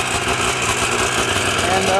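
A 377cc Rotax Ski-Doo snowmobile engine fitted in a Twister Hammerhead buggy runs close by, a buzzy two-stroke drone holding at a steady, loud level for the whole stretch.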